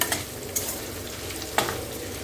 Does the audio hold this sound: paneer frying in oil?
yes